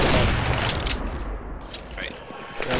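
Sustained video game gunfire, a dense fusillade of shots with booming low end that rolls on almost without a break for about three seconds, loud and close, with a brief lull midway.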